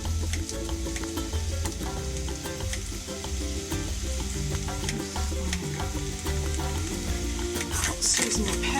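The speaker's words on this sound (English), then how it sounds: "I love cooking the bacon with the potatoes" Bacon and potatoes fry in a small pan with continuous close sizzling and occasional stirring clatter, staying loud and even throughout while faint talk sits underneath.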